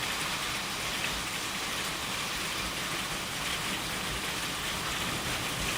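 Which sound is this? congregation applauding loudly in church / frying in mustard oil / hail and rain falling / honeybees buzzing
hail and rain falling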